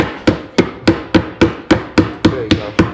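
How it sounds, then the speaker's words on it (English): A makeshift mallet taps a queen cell cup into a drilled hole in a three-way mating nucleus box, ten crisp, evenly spaced knocks, close and loud, with no voices. "with like a little mallet you can tap that in"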